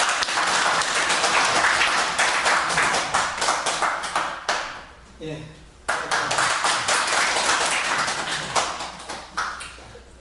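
An audience applauds to welcome a guest lecturer at a Monday lecture series, a dense, steady round of clapping that dips briefly midway and then swells back, with a voice speaking over it.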